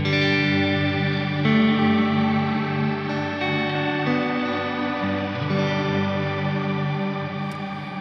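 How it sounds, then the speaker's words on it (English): Sustained guitar tones wash through a Strymon shimmer reverb pedal with regeneration, with bright, high harmonics swelling and layering over the chords as the tail regenerates, growing brighter and higher. "if you choose the regen, you will hear that's gonna gradually get brighter and higher as it regenerates into the reverb core"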